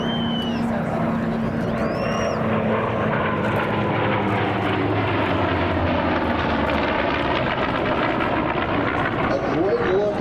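Vintage propeller aircraft flying alongside a modern jet at the Beale Air and Space Expo air show, a loud sustained engine roar passing overhead with a rising and falling whine, while an announcer talks over a public address.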